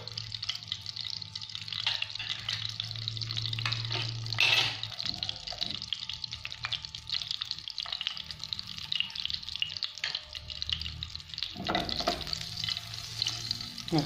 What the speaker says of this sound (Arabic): هكذا ضروري نخلو الزيت حتى يسخن باش نديرو الكبدة.